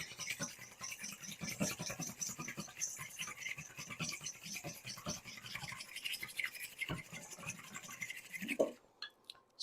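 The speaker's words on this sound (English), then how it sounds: "I have 2 yolks, 1 full egg, and I'm going to whisk these" A whisk beating two egg yolks and a whole egg in a bowl, heard as a quick, steady scratching and tapping rhythm that runs for several seconds and then stops. The sound is close and fairly quiet.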